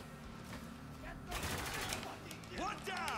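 Shotgun blasts in the war shooter Spec Ops: The Line, several loud broadband bursts over a steady game soundscape, with a whooshing effect near the end.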